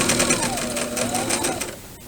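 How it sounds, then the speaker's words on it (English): A sewing machine backstitches to reinforce the corner of a seam, running steadily and close for about two seconds before slowing and stopping at the end. "So I am going to back stitch to reinforce the corner"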